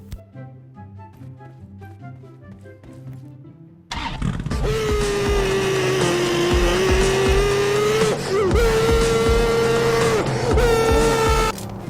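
In the PUBG video game, a pick-up truck starts with a quiet engine note, then revs hard and drives on with a loud, steady, whining engine tone and tire noise.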